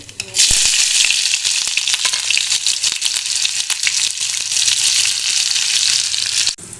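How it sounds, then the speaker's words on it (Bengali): Chopped onion and black cumin frying in hot oil for a Bengali picnic meal, a loud, steady, close sizzle that starts abruptly and runs unbroken before cutting off at the end. "তেল গরম হয়ে গেছে তার মধ্যে একটু কালো জিরে দিয়ে দিলাম আর এদিকে কেটে রেখেছি আর পেঁয়াজ কুচি"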